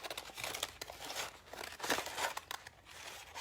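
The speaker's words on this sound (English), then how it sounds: "I might want to come down here and just cut this little flower out" Scissors snip through paper to cut out a small flower, with faint, close crinkling and crisp cutting rustles in quick irregular bursts.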